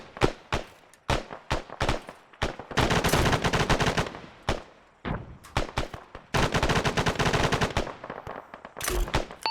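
Machine gun fire from a weapons platoon gunner in the military shooter ArmA 3, loud and close, alternating quick single cracks with sustained rattling bursts that stop and restart several times, with no talking.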